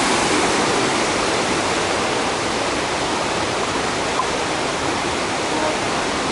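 Mountain stream at Ramsey Cascades rushes down as a little side branch into the river, a loud, steady, unbroken wash of water close by with no pauses.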